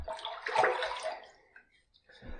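Water is splashed by hand onto a head mid-shave, making a close, brief gush and splatter that trails off, followed by a softer second splash, with no talking.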